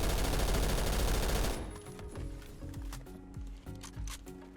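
Rapid automatic fire from a new 800-round-per-minute assault rifle in Roblox Phantom Forces, a dense loud burst at first, then scattered shorter bursts and single shots with clattering game effects.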